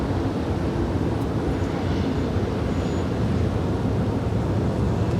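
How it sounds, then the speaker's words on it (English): A Boeing 777 airliner rolls down the runway at LAX, giving a steady, broad rumble of engine and wind noise that holds at a constant level with no talk. "we've got that 777 now rolling down, 25 right"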